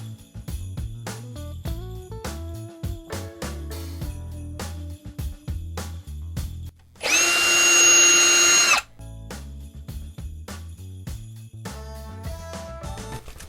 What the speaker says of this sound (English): I will be using my drill to make 2 more holes on the opposite side.